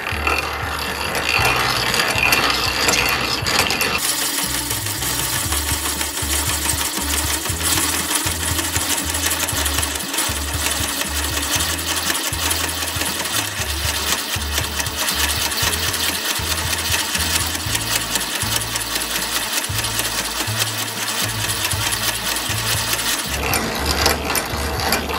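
An antique Swan beam drill is cranked by hand to bore a setscrew hole in a metal part, giving a steady rhythmic gear clatter and ratcheting whir that runs for about twenty seconds between quiet moments at either end.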